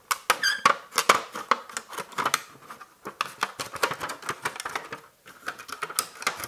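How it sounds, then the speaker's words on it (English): A cheap plastic plant pot has its bottom cut off, with a close run of crisp snips, clicks and small squeaks coming in irregular bursts and short pauses. "Cut the bottom off it."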